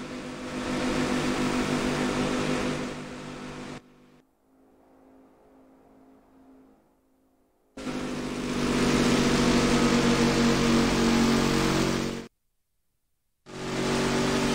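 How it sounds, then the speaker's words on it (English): NASCAR stock car engines in the NASCAR Rivals video game roar loudly at a steady idle rumble, cut off abruptly twice by silence or a faint lull, then resume at full volume. "Let's head down to get the engines fired."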